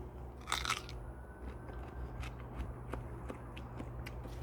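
Crisp bites and crunchy chewing on a raw pearl leek bulb, a few close, faint crunches early then softer sporadic chews over a low steady background hum.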